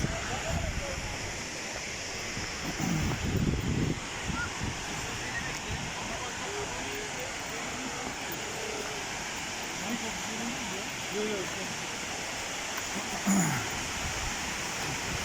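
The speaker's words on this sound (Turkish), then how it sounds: "Az önce gösterdiğim şelaleler aşağı tarafta." Waterfalls roar far below a scenic viewpoint, heard as a steady, broad rushing hiss that runs without a break, with brief rumbles of wind or handling noise near the start and end.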